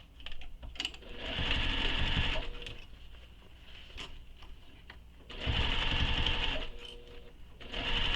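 A sewing machine stitching a crossbody bag with its lining, two loud close bursts of rapid whirring separated by quieter pauses with small clicks and handling sounds.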